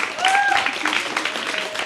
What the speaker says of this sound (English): Give a nice little round of applause